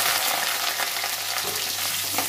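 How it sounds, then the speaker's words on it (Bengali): Potatoes sizzle in mustard oil in a wok, a steady, close frying hiss with no break. "আলুগুলো লাল লাল করে ভেজে নেব"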